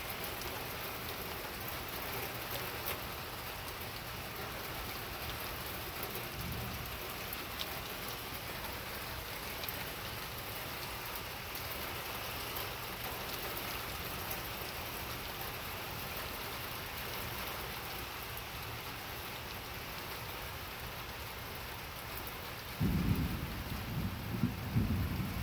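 Steady rain falls through a passing storm over a garden, a continuous hiss with low rolling thunder, including a deeper rumble swelling near the end.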